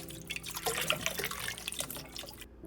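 Rinsed okra draining, with a steady patter of water drips and trickling splashes falling close by, fairly quiet and continuous, ending in a brief silence.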